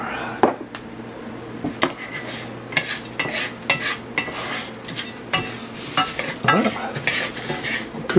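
Home-grown sunflower seeds salted with Himalayan salt roast and get stirred in a pan, giving a steady dry scraping and rattling with irregular clinks and a low sizzle, close up and continuous.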